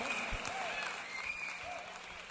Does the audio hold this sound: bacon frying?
no